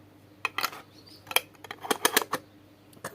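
Lids being screwed onto jars of sour cherry compote make a quick series of close, sharp clicks and scrapes in an uneven rhythm, fairly quiet, with no talking.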